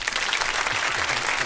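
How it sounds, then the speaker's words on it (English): A short burst of audience applause during a live radio show, dense clapping filling the whole moment with no talk over it. "Give a man. round of applause."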